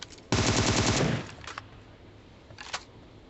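Gunfire in an online shooter game, a loud sustained automatic burst close up lasting under a second, then two fainter short bursts from farther away.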